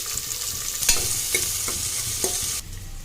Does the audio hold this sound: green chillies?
yes